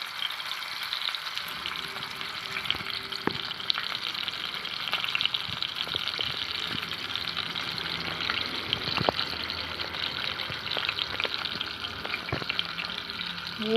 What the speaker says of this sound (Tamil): ஓகே, முட்டையை ஃபுல்லாக ஊற்றியாச்சு